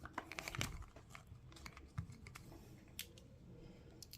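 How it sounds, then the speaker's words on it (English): A tarot card deck box being handled, with soft crinkling, scraping and tapping of cardboard, a cluster of small clicks early on and scattered light knocks after, quiet and close. "Let me just take this box down so I can show you the cards"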